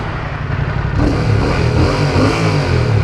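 A Fantic Caballero 700 motorcycle engine revs close by, a steady rumbling exhaust that swells and grows louder about a second in, then holds a loud, throbbing drone with slight pitch rises.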